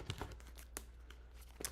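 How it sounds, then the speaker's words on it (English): Tarot cards being shuffled by hand, a series of soft crinkly riffles and taps spread across a short quiet moment with no talking. "So let me shuffle."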